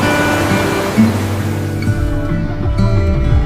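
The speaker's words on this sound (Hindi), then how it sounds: "जंगल के बीचों बीच गुजरता हुआ ये दरियाई नाला एक रोमानवी मंजर पेश कर रहा था" A mountain stream rushes through forest in the Kalam Valley of Swat, its steady broadband roar filling the scene without a break, with a low rumble underneath.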